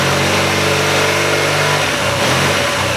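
A Honda Silver Wing 600 scooter engine revs loudly and steadily close by while the brake is held, then its tone dips and shifts toward the end, alone without talk.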